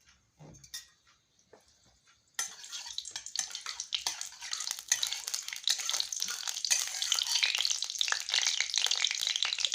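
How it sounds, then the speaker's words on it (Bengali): A bay leaf and whole spices hit hot oil in a kadai, bursting into a loud, close, crackling sizzle after a couple of seconds of near quiet with a light clink, then sputtering on unevenly. "কড়াইতে আমি আবার তেল দিচ্ছি। এখানে আমি সাজিয়ে নিয়েছি, দিচ্ছি ফোড়নে। আর একটা তেজপাতা দিচ্ছি।"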